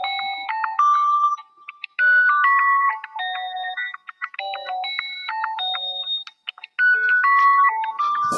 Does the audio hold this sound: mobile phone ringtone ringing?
yes